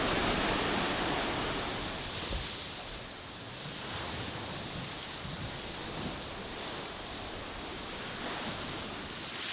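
Waves wash steadily against the Lake Superior shore near Pictured Rocks, a continuous broad surf rush mixed with wind buffeting the microphone, with no speech.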